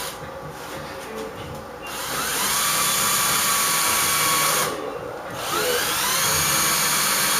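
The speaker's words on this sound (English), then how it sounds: "We'll drill there." A power drill boring into the wooden body of a handmade Aztec huehuetl drum, a steady high whine that runs for a few seconds, pauses briefly, then resumes, loud and close with no talking.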